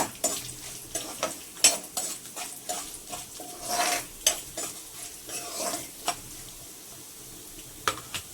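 Curry leaves crackling and popping in hot oil alongside onion and green chilli for an okra or beetroot fry, with sharp irregular pops and stirring clatter over a steady sizzle, close by with no talk.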